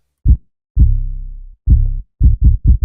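Deep booming 808 bass drum hits, one short, one long sustained with a slow decay, then a quick run of four short punchy thumps, clean and loud.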